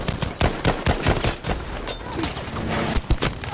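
Dense enemy gunfire rakes the Iwo Jima beach in Battlefield V, a fusillade of sharp, overlapping shots and machine-gun bursts that runs loud and steady across the whole moment with no talk.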